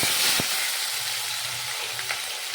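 Onions sizzle in a hot pan for a short stretch, a dense steady crackle with a brief knock near the start.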